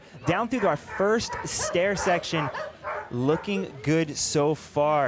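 Dogs yip and bark repeatedly near an urban downhill mountain-bike race course in Valparaíso, mixed in under continuous commentary from someone speaking.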